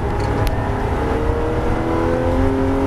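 A Porsche GT3 accelerates hard around a race circuit, its engine a loud, steady droning roar with rising tonal whine, heard close and continuous without talk.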